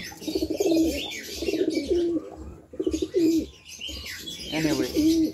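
Racing pigeons arriving at a loft after a race: repeated soft cooing and chirping calls, close and clear, in several bursts with brief pauses between them.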